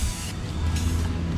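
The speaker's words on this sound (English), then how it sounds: "Okay, all the bits are painted, spray painted that is" Rust-Oleum 2x spray paint hisses from a can onto small parts as a steady, close, broadband spray that runs without pause over a low background rumble.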